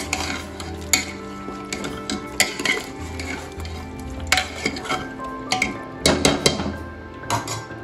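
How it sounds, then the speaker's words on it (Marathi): Chicken curry paste is stirred in a metal pot, with a spoon scraping and clanking against the sides in repeated strokes over a steady sizzle and frying hiss, close and fairly loud. "चांगला हलवून घ्यायचं याला."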